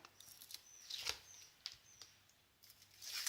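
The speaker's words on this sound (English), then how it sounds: "I don't know if you can hear the little baby pheasant chirping in the background" Faint, high-pitched chirps from a baby pheasant repeat irregularly, several short peeps scattered over a quiet background with light rustling.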